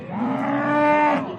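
A cow at a cattle market in Asaka, Uzbekistan gives one long, loud, close moo lasting over a second, with no talk around it.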